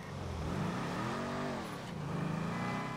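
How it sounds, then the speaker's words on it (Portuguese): Sports car in GTA V, the Z-Type, accelerating hard with a rising, revving engine whine that climbs in pitch, drops briefly at a gear change and climbs again, loud and close throughout. "Maluco, ele tá acelerando muito."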